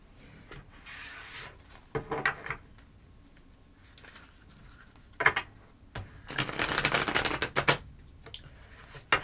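Tarot cards are shuffled in bursts of riffling and sliding, with quieter handling and soft taps between, close and fairly faint, no talk.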